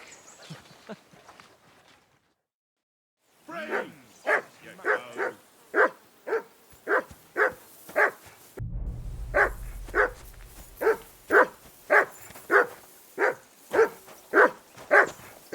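A dog in the medieval video game Kingdom Come: Deliverance 2 barks repeatedly in an even, rhythmic series of sharp, close barks. There is a brief pause early on, and a low rumble joins midway.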